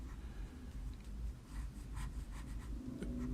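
Light blue colored pencil shading on paper for a Wolverine figure drawing, a quiet, close, continuous scratchy rasp with small rhythmic strokes.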